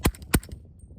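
Two sharp suppressed gunshots from a rifle fitted with a SilencerCo Velos LBP suppressor, fired close by about a quarter second apart, each with a short decaying tail before the quiet returns.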